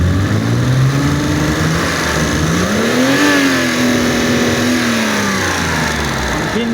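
A BMW E32 730i with the M30B30 inline-six revs up from idle, the engine note climbing, holding and easing back down, loud and close in a steady drone, with a faint voice under it.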